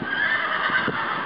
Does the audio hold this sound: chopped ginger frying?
no